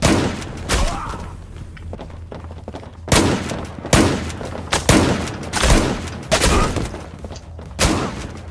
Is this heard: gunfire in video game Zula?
yes